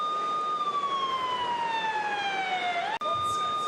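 A wailing ambulance siren during a WWE Raw wrestling broadcast sweeps slowly downward, close and loud, then cuts out briefly and resumes at a higher pitch.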